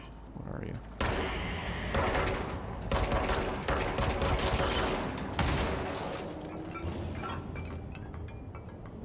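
Enemy exploding in the video game Control, a burst of loud blasts and rapid gunfire-like crackle lasting several seconds, then fading into quieter rumbling game sounds while a person talks.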